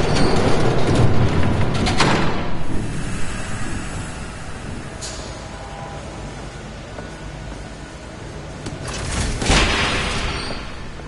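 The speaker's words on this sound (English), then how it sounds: "There's a train coming." Train approaching in the Batman Telltale video game. Rumbling rail noise swells loud, with sharp booming bursts near the start and again near the end, and no talk over it.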